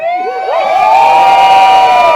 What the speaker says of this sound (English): And cheer of your lives to my new wife, Paige Manchester.